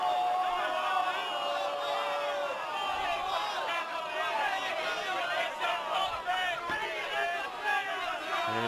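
Football crowd at a men's semi-final, Olympic FC versus Lions FC, reacting loudly as a player goes down after a tackle late in the match; a continuous roar of shouts and whistles-like cries with voices throughout, steady and dense.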